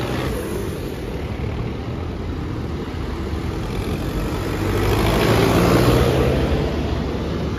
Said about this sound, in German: vom Abreisen der Traktoren mit ihren Schildern